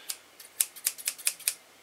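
Quick snips of scissors cutting through a plastic packet, about eight crisp bright cuts in an uneven rhythm, close by with no talking.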